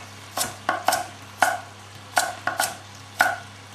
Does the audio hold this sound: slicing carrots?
yes